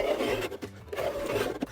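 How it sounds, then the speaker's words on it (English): A Stanley knife cutting through plasterboard on a timber stud partition, two close scraping drags of the blade separated by a short pause, with no voices. "Just do it with a Stanley knife."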